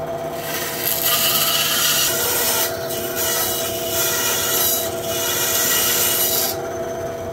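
A bandsaw cuts through wood with a steady, rasping hiss over the constant motor hum, the cutting noise swelling and easing in a few passes, close and loud.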